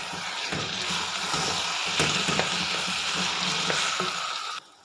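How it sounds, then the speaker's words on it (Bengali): Green chillies stirred into a simmering dish in a pan, with a steady sizzle and a few faint scrapes of the spoon, continuous until it cuts off near the end. "আমি এবারে ঢাকনা খুলে দুটো কাঁচা লঙ্কা দিয়ে একটু নেড়ে নেব"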